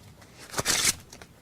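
A deck of playing cards being shuffled, a brief crisp riffle burst in the middle, close and fairly quiet, with no talk.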